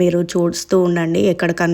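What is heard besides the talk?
No everyday noise stands out behind the speech.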